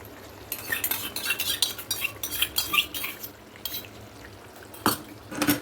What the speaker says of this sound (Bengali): এবার আমি এর মধ্যে একটু টক দই দিয়ে দেবো।